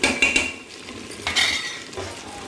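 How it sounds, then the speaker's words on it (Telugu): Chicken fry being stirred in a pan: a spoon scrapes and clinks against the metal in quick, uneven strokes, close and clear, with no talk. "కాసేపు అలా ఫ్రై చేసండి అది తిప్పుకుంటూ ఉండాలన్నమాట"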